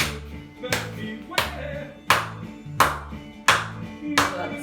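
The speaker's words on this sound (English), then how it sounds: "Clap your hands for me." Children clap along to a preschool movement song, sharp claps landing at a regular beat roughly every two-thirds of a second over a bouncy musical backing.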